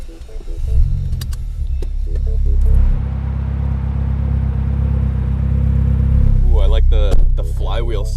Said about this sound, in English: The flywheel sound on startup.